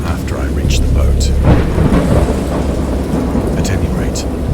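Heavy rain pours during a thunderstorm in the game Dagon, with loud rumbling thunder rolling beneath a dense, steady hiss of rainfall and scattered sharper drops, close and loud.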